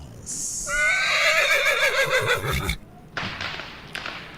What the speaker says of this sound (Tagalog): Ayan na, parating na yung kabayo.